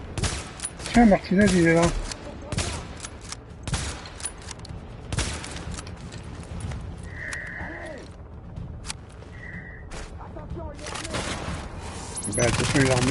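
Bursts of gunfire in a third-person shooter firefight at a refugee camp in The Division, scattered cracks and volleys throughout, with someone talking over the shots.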